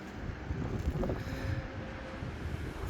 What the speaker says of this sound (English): It's quite a windy day today